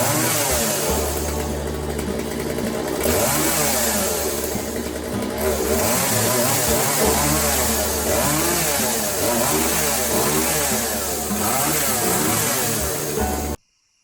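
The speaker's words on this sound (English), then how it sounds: "Today I'm going to take care of a slightly neglected tool that I've had here. It's a chainsaw." A neglected Poulan chainsaw engine runs loud and close, with a buzzing two-stroke drone that rises and falls through revs before cutting off abruptly at the end.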